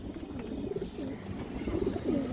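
A khaki female pigeon coos in repeated low, throaty phrases close by, steady and moderately quiet.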